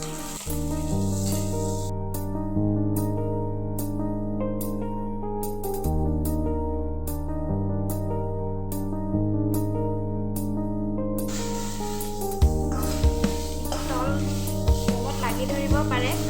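Ginger garlic paste, about one big spoonful, frying in a little oil for a simple home-style chicken curry, with a steady sizzle under loud background music throughout.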